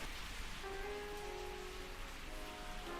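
Unseasonal rain falling steadily on a garden patio in Bangalore, a continuous close hiss of drops with no pauses, a few faint tonal whistles or birdsong threading through the wash.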